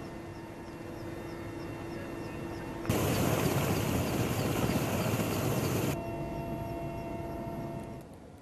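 A helicopter flying over flood-hit areas of Kerala during relief supply drops, a steady droning rotor and engine roar that swells into a loud, dense rush midway before easing back.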